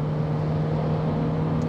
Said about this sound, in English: Now, as you can see, the vehicle accelerates extremely well.